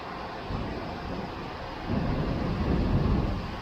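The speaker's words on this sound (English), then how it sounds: "You can hear the thunder." A low, distant rumble of thunder rolls in and swells louder halfway through, heard alone over a steady hiss of rain or wind.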